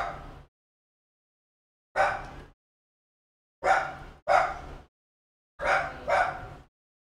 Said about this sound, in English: wiener dogs can make all the noise they want.